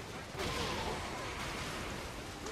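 Dense, continuous gunfire from two guns fills the scene in the video game Saints Row 4, loud and close, with speech underneath.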